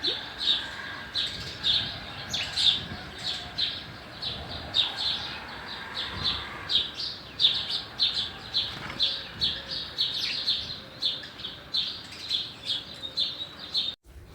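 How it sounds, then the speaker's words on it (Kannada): A bulbul chick in its nest calls for food with rapid, repeated high chirps in steady bursts, fairly close, over a soft outdoor background with faint rustling and no talking. "ಗೂಡಲ್ಲಿರೋ ಮರಿ ಹಕ್ಕಿ ತಾಯಿಯಿಂದ ಆಹಾರಕ್ಕಾಗಿ ಬಾಯಿ ತೆಗೆದು ಕರಿತಾ ಇದೆ."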